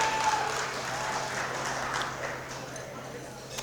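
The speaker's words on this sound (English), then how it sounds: "So if we could have a round of applause for everyone" Applause from a banquet crowd, steady clapping at a moderate distance with a faint murmur underneath.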